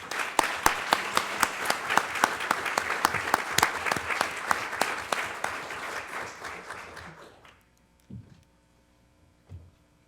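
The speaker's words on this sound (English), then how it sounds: "if you could please give them a round of applause" A room of people applauds at a city council meeting, with brisk clapping for about seven seconds before it stops abruptly, leaving a quiet hum and a couple of soft knocks.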